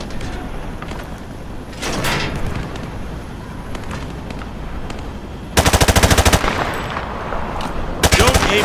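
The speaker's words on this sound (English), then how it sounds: "Grab that weapon off the table and fire at the targets behind you. Turn around and fire at the targets." Rapid automatic gunfire at shooting-range targets in Call of Duty Modern Warfare 2, two loud bursts of fast rhythmic shots after quieter single-shot and equipment clatter, with faint voices in the background.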